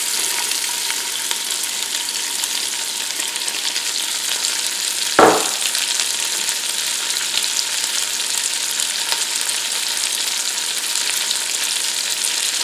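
Onions frying in a pot, a steady broad sizzle that holds evenly throughout, broken once by a brief stir or clatter midway.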